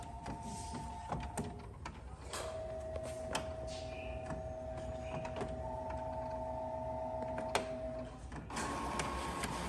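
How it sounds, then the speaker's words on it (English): Inkjet printer fitted with a full set of new ink cartridges runs a print job, giving steady mechanical whirring with sliding carriage passes and clicks, close and moderately loud, with no talking. "We just put a whole new set of ink cartridges in this printer."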